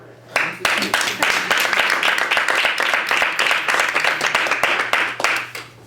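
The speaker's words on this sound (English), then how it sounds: "And yes, you can clap for them." Audience at a women's roundtable event breaking into applause: many hands clapping in a loud, dense, steady stream that starts suddenly and carries on for several seconds.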